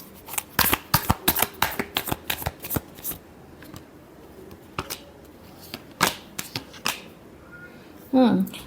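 Tarot cards being shuffled by hand in quick riffling bursts, a rapid run of crisp slaps followed by a few scattered taps, close and clear, with a brief voice at the end.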